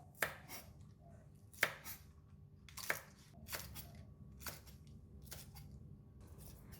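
A knife cuts spring onions into short lengths on a board, giving six or so crisp, separate chops spaced about a second apart. The chops are quiet and close, with no talking.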